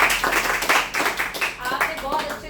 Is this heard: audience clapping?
yes